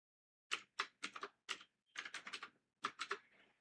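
Computer keyboard keys clatter in short quick bursts of clicks separated by brief pauses, close and crisp against silence, while dimensions are typed into 2D drawing software.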